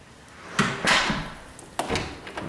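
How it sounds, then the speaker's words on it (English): An interior door into the garage of a rental twin home opens with a latch click, then a soft swish and thump. A few lighter knocks follow in a quiet hallway. "this first door on our left opens up into the garage."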